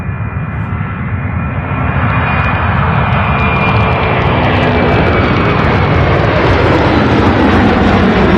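A UPS cargo jet on its takeoff roll for flight 2660 to Kansas City at Louisville's UPS Worldport, engines roaring loud and steady, building in power and holding a broad rumble throughout.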